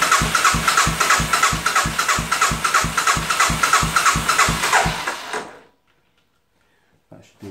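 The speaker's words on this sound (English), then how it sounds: "we need to crank the bike" Motorcycle being cranked by its starter during a voltage stabiliser test: a steady, rapid rhythmic churning that runs for about five seconds without catching, then cuts to silence before faint handling noises.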